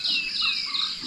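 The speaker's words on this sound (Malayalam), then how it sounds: "നല്ല സൗണ്ട് കേൾക്കാം കിളികളുടെ" Bright, high bird chirps and trills ring out over a quiet background, a short burst of calls at moderate distance, near Thekkady in Kerala.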